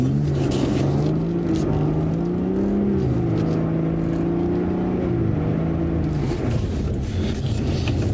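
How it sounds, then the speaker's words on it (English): A BMW G80 M3 Competition xDrive engine revs while drifting, its tone climbing and falling in sustained, wavering pitch sweeps over steady tire and road noise, loud and close throughout without speech. "Just going to give it a little blip to get the back end out, and then just modulate it"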